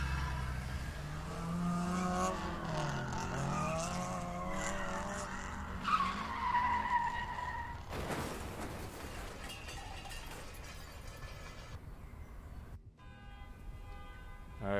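A stolen car in the video game The Bookwalker skids and screeches during a chase, with wavering tire squeals and engine revving up front, then a sharp impact-like burst before the noise thins out.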